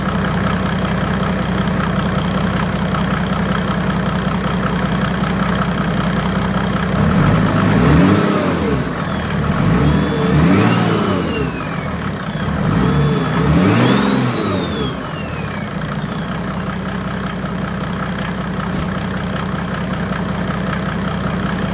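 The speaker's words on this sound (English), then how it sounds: "Alright, let's give it some revs." A Mercedes-Benz OM606 diesel engine with a big turbo idles steadily, then revs up in two or three strong surges before settling back to a rumbling idle, close and loud.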